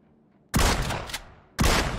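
Two loud, close gunshots ring out in PUBG about a second apart, each a sharp blast with a decaying echo tail, standing out against a quiet background.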